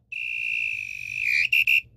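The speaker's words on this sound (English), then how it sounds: "And here comes the final whistle." A referee's whistle from the Headball 2 soccer video game sounds one long, loud, steady blast followed by two short sharp toots, clear and alone.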